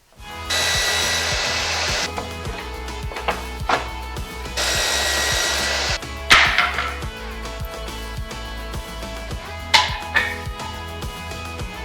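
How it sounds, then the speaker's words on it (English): A miter saw cutting wood for a 3D printer table: two loud spinning bursts with the blade biting through stock, followed by sharp clacks and knocks of boards being handled, all close and without talk. "which means it's miter saw time"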